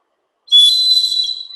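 Breath blown into a small clay whistle makes a single bright, high, piercing tone. It starts abruptly after a short silence and holds for about a second, wavering slightly and fading a little at the end.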